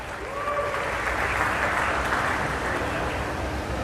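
Audience applause at a Malaysian political gathering, a loud, even roar of crowd clapping sustained throughout, with a faint voice briefly audible near the start.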